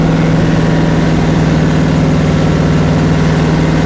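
A rebuilt 1939 Ford engine in a classic Highboy runs loud and close during break-in, holding a steady, rough rumble at a fairly high idle with no voices.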